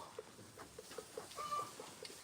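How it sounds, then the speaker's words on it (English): A hen sits in a farm stall laying eggs and makes soft, low, repeated clucks in a steady rhythm, faint and a little distant, with a brief higher squawk in the middle. "That chicken's not too happy."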